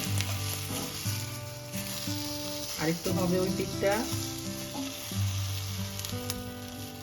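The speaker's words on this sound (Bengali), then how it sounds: "এই যে লঙ্কাটা ভাজা ভাজা হচ্ছে" Chili and tomato fry in a pan for chutney, a continuous close sizzle with stirring scrapes, while someone talks briefly over it.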